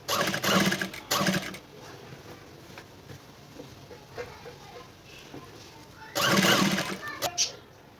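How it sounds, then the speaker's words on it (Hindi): Two separate bursts of a sewing machine stitching a choli blouse, each a fast rattling run, close and loud, with a quieter stretch between them where someone speaks. "अब हम दूसरी वाली सिलाई लगाने लगे हैं"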